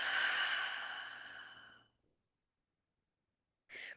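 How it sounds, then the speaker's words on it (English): A single long breath out, loud and airy, fades over about two seconds, followed by silence and then the start of a fresh inhale near the end, heard alone during a calm guided breathing exercise. "Taking one final big breath in and then out."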